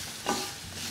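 A short, soft scrape of a spoon stirring instant sadhya-style mango pickle mixture, quiet and close with a faint sizzle-like hiss.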